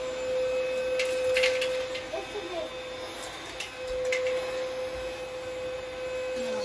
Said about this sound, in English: We're gonna try this Lego vacuum called Pick Up Bricks.